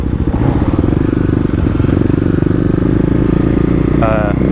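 Kawasaki KLX250 dirt bike engine revving hard through a wheelie with the clutch dropped, a loud, close, continuous motorcycle drone with rattling clatter throughout.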